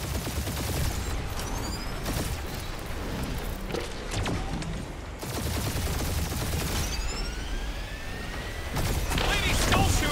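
Bursts of gunfire in the video game Guardians of the Galaxy, dense rapid shots in several loud clusters with booms and movement, intermittent voice chatter mixed in.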